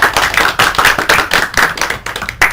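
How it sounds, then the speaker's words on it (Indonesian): A small classroom group claps together in a quick, fairly even rhythm for a couple of seconds, close and crisp, with no talking. "Kita kasih tepuk tangan untuk diri kita sendiri"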